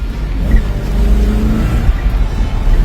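A 1969 Dodge Super Bee engine running, a loud, steady low rumble idling close by with slight swells in intensity.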